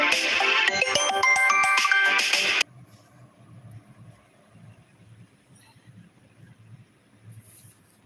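A phone ringtone for an incoming call plays loudly as a bright melodic tune for about two and a half seconds, then cuts off, leaving a quiet room with faint low background noise.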